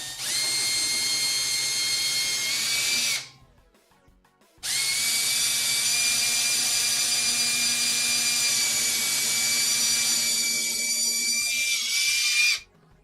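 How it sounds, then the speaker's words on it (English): Power drill whines steadily while pre-drilling holes for casters on a miter saw station in a wood shop, two long runs of high-pitched motor noise separated by a short pause, loud and close with no talk. "I'm pre-drilling 2 of my holes"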